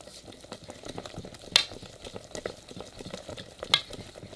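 Chocolate waffle batter being whisked in a bowl, a busy wet rhythmic stirring with two sharp clinks of utensil against the bowl, close up and with no talking.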